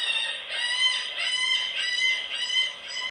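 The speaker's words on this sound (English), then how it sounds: "We're gonna do the seagull." A children's sound book plays a recorded seagull call, a harsh, tinny, continuous squawking with a few rhythmic pulses, loud and close through a small speaker.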